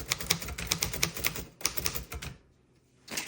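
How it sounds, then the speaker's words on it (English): Keys of a 1937 Royal Deluxe typewriter in black crinkle finish strike in a quick, uneven run of sharp clacks up close, pausing briefly before a final strike. "So when you are typing,"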